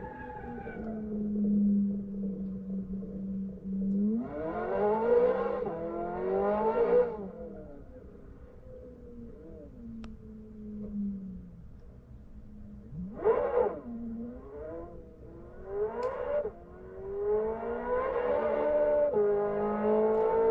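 A 2023 Chevrolet Corvette Z06 C8 on a test track, its engine droning then revving hard in several rising surges, with a few gear changes between sharp climbs, heard fairly close.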